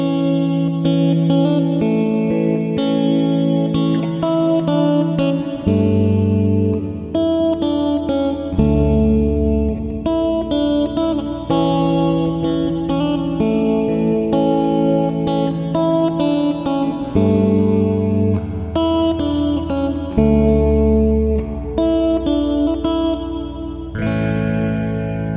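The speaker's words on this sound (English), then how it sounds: "It's a large reverb, but not overly massive or airy, which makes it big enough for ambient but restrained enough to sound somewhat natural." An electric guitar plays sustained, chiming chords through an Ursa Major reverb and a Wampler Ego mini compressor. A large but restrained wash of reverb fills the space continuously at steady volume, with no voices.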